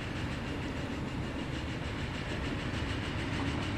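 Train rolling along in the Transport Fever 2 simulation game, a steady continuous rumble with rhythmic rail clatter, moderately loud and unbroken throughout with no talk.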